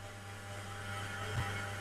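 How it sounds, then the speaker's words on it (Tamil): A household exhaust fan runs in a kitchen with a loud, steady motor hum and whooshing airflow, a constant drone like a distant rocket, alone without speech. "ஃபேன் எக்ஸாஸ்ட் போட்டுறேங்க, முடியல. அப்பா, ஆனா அந்த ராக்கெட் மாதிரி சவுண்ட் கேக்குது பாத்தீங்களா"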